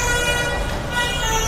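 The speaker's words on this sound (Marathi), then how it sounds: "हे बाईक स्वार हॉर्न वाजवत चाललेत" Motorcycle horns blaring in a street procession, a sustained loud honking tone held across the whole moment, with traffic rumbling beneath it.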